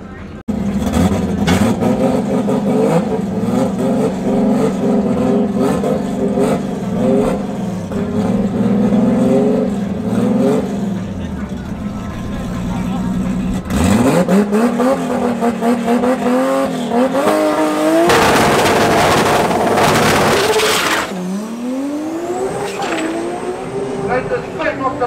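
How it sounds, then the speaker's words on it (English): A 2JZ-engined Toyota Corolla launching at a drag strip during a club event at Tarlton International Raceway, with loud revving, tire squeal and a roaring pass, heard under a commentator's voice. "Up next is Ben, aka Cowboy, with his 2JZ Corolla."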